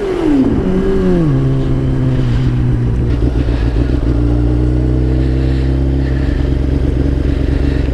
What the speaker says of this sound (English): Little rev bomb action.